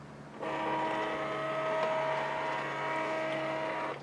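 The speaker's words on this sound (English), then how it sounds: "I run it now through the printer and add these little textural elements." A printer starts up and runs a print, giving a steady mechanical whir with tonal hum that holds evenly after a sudden start, moderately quiet and alone.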